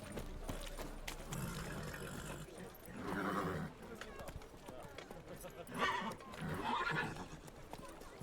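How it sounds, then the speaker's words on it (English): Roach, the horse in The Witcher 3 video game, neighs loudly twice over galloping clip-clop hooves. A person talks excitedly over the game sounds. "Whoa there, Roach. Faster"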